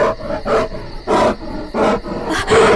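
A huge bear in a Hindi-dubbed creature action movie lets out a series of deep, loud roars and growls in about five rhythmic bursts, close and menacing with no talk over them.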